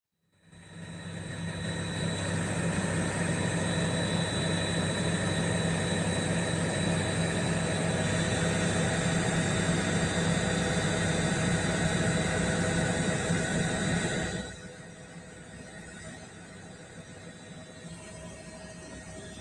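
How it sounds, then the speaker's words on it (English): A loud, steady roar of helicopter engine and rotor noise fills most of the recording, then drops to a lower, continuing rumble as it moves off. "We're seeing here the helicopter takeoff."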